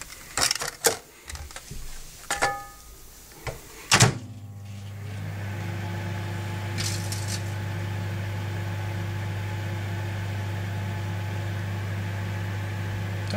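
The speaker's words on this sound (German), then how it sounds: "So, Mikrowellen-Experiment Nummer 2. Chipstüte." Microwave oven heating a bag of crisps: a few clunks and a door thud, then a steady loud low hum runs on without a break.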